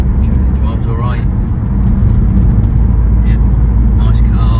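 A 2014 Volvo V60 1.6 D2 SE Lux diesel estate on an open road, heard as a steady, loud low rumble of engine and tyre noise inside the cabin throughout, with faint higher sounds drifting over it.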